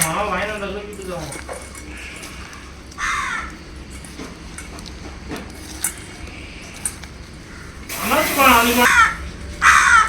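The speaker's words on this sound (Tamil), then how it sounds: "நம்ம பக்கோடா செய்கிறதுக்கு முன்னாடியே காக்காவில் வர ஆரம்பிச்சிருச்சு" Crows caw in a garden during an outdoor cooking session, with a few loud, harsh calls nearby. Most of the calls come in a burst near the end, and steady talking runs underneath.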